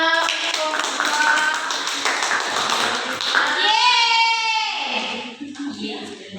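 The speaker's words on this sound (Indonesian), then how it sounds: "Beri tepuk tangan anak-anak untuk kelompok" A classroom of schoolchildren claps hands together in a dense burst of tapping applause, with excited children's voices and cheers rising toward the end before it fades.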